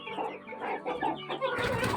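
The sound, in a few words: chickens and roosters clucking in a coop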